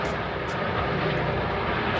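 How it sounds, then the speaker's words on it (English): A helicopter flying overhead gives a continuous, fairly faint whir with a few brief brighter bursts, heard alone without talk. "It's a helicopter up there."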